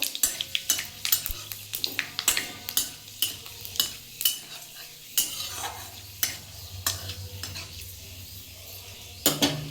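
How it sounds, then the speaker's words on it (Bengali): Dry red chilli, bay leaf and panch phoron tempering in hot oil for a fish-head spinach chachhori: a steady close sizzle punctuated by repeated sharp scrapes and clicks of a spatula stirring the pan, with no talking. "তেলের মধ্যে আমি একটা শুকনো লঙ্কা একটু তেজপাতা আর একটু পাঁচ ফোড়ন ফোড়ন হিসাবে দেবো দিয়ে ফোড়নটাকে ভালো করে ভেজে নেবো"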